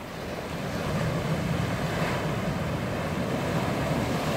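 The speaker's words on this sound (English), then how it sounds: "Beautiful pounding surf today." Heavy surf pounding the shore off Maui in the morning, a continuous broad roar of breaking waves with wind buffeting the microphone.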